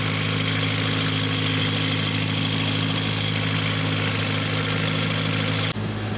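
A sailboat's inboard engine idles steadily and loudly up close, a constant droning hum with layered low tones that holds unchanged before cutting off abruptly near the end.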